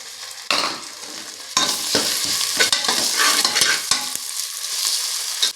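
Ginger garlic paste sautéing with roasted onions for a mushroom biryani: steady loud sizzling under repeated scrapes and clinks of a stirring spoon, with no talking.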